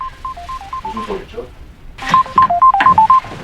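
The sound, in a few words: mobile phone ringing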